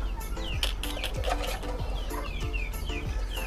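A collection of ornamental crested pigeons makes repeated soft cooing calls and brief chirps in a steady rhythm, fairly close, with a faint background hum.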